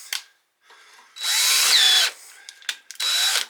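A power drill bores through material in two sustained bursts of loud whining, with its motor pitch sliding down under load, separated by shorter clicks and clatter from the tool.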